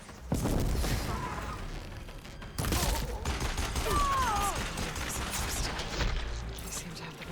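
Gunfire in the video game Horizon Forbidden West, a busy battle of repeated shots and blasts mixed with game voices shouting, loud and fairly steady throughout.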